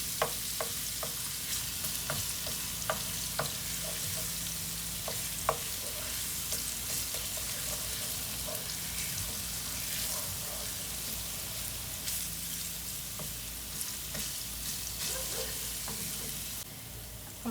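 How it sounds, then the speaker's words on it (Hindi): Garlic and ginger frying in a pan before meat goes in, a steady close sizzle with repeated spoon clicks and scrapes against the metal, no one speaking. "हमारे लहसुन अदरक फ्राई हो चुके हैं।"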